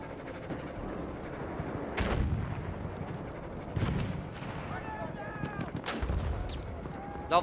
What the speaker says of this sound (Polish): Znowu na pewno jakiś strzał